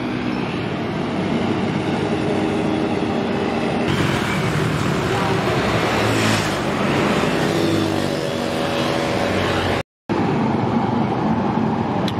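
A bus pulls away at Maduroso bus terminal in Temanggung, its engine a loud, steady rumbling roar that holds throughout, with a brief dropout near the end.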